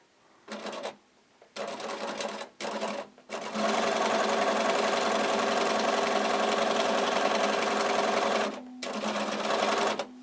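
A sewing machine stitches fabric strips for a ruffle and tag blanket, running in a few short bursts with pauses and then a long steady whirring run, close and loud.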